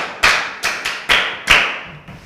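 A classroom of pupils claps for a girl in a few sharp, loud, evenly spaced claps close by, with no talking.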